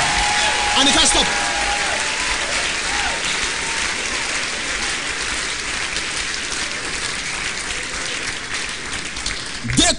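A church congregation claps and cheers in a long, dense wash of applause at a praise service, loud and sustained throughout, with voices mixed into the crowd noise.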